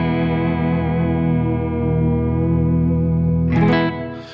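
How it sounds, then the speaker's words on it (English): An electric guitar plays with heavy reverb and vibrato. It sustains a wavering, shimmering chord for several seconds, then a few brighter plucked notes ring out near the end. "I got a lot of reverb going right now, but that's vibrato."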